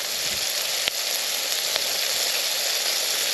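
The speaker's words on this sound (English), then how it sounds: "We'll come for a quick shot of them sizzling away." Steady, bright sizzling of wild mushrooms frying in a pan, a constant hiss with a couple of faint pops, no voices.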